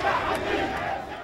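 Dense crowd noise at a campaign rally for Hamdeen Sabahi in Banha, Egypt, a loud continuous roar of many voices shouting and cheering without a break.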